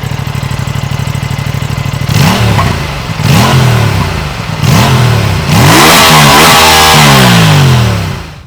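An Aprilia RS 457 motorcycle with a 457 cc twin-cylinder engine idles with a steady rapid pulse, then is blipped through four quick revs before a longer, louder climb in revs that fades out.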